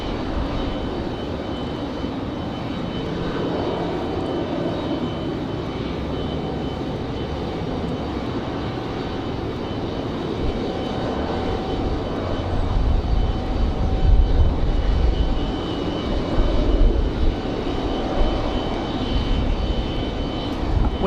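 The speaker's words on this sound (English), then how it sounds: "Here's a 737," A Delta Airlines Boeing 737 jet at Raleigh Durham International Airport, a loud, steady engine roar that swells gradually as the plane passes, heard over gusty wind.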